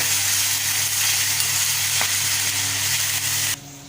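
A tempering of asafoetida, green chili and curry leaves is stirred in hot oil for curd rice, giving a loud, continuous sizzle with a steady low hum, cutting off sharply near the end.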